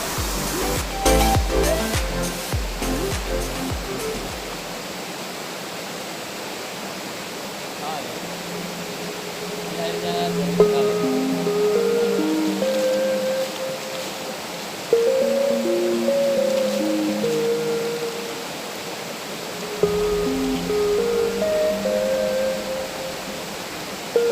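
A small stream runs across the entrance to a tomb at Masjid Saka Tunggal in Cikakak, Wangon, its water flowing in a steady, close rush that fills the whole scene, with a few brief knocks and thuds.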